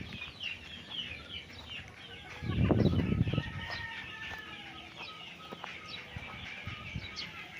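Chickens cluck and call around a rural property in Calauan, Laguna, with repeated short bird calls over steady outdoor background noise and a brief louder low rumble in the middle.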